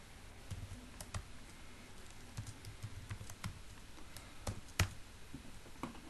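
Rapid typing of a simple Python script on a computer keyboard, with irregular bursts of crisp key clicks and a few sharper taps, close and fairly quiet against a faint steady background hum.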